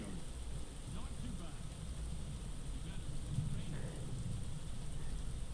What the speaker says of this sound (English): Oh, the thunder echoing. And the rain.